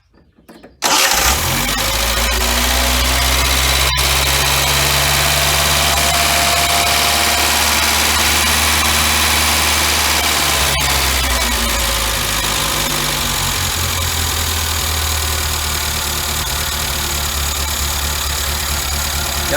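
A car engine fitted with a Weber carburetor cranks and catches, then settles into a loud, steady idle that runs on alone with a faint dip in pitch partway through.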